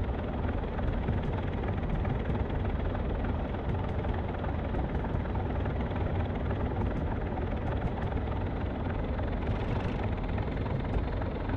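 A Class 37 diesel locomotive engine in Train Simulator, on the Inverness to Kyle of Lochalsh line, drones in a steady, loud, low rumble that holds constant for the whole stretch, with no voices over it.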